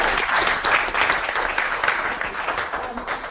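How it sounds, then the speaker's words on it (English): An audience gives a sustained round of applause after a talk on a Great Lakes plastic pollution survey, dense steady clapping filling the room at an even level throughout. "Let's give her a round of applause."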